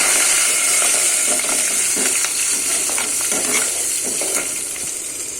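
Dried red chillies and curry leaves fry in hot oil for an okra stir-fry, with a loud bright crackling sizzle broken by stirring scrapes, fading slightly toward the end, with no talking.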